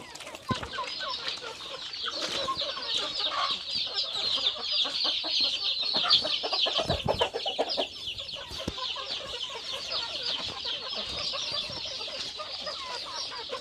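Hungry chickens cluck and squawk loudly and continuously at feeding time on a farm, a dense nearby flock chorus with occasional wing flaps and knocks.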